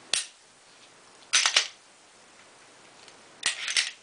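An empty Smith & Wesson M&P .357 SIG pistol is dry-fired and cycled, producing three crisp, close mechanical clicks and clacks separated by short quiet gaps.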